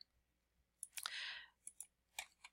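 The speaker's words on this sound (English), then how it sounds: "My silence is me typing to the right." Typing on a computer keyboard: a few sparse clusters of light, close clicks and taps with short pauses between them, fairly quiet.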